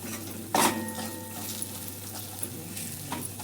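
A spoon clanks once against a pan as turmeric, red chilli powder, garam masala and a homemade spice mix are stirred for samosa filling, followed by soft, faint scraping and a low sizzle.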